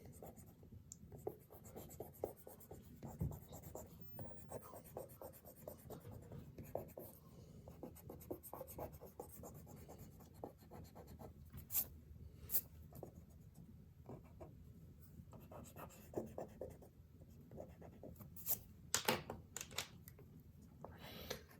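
A pencil eraser rubs over guidelines on a chibi-style drawing of Pocahontas on paper, giving soft, quiet, repeated scrubbing strokes in bursts, fairly close and with no talking.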